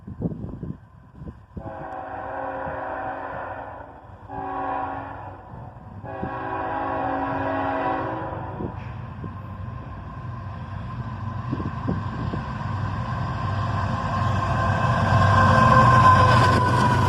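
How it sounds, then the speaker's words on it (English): A southbound CSX freight train led by ET44AH and ES44DC locomotives sounds three long horn blasts, then rumbles past with a rising, steady roar of engines and rolling wagons. "An ET44AH and an ES44DC lead this train southbound."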